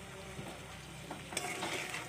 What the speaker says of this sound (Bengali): দিয়ে সুন্দর করে এটাকে এখন ভাজা ভাজা করে নিই, মানে যাতে টমেটোটা গলে যায়।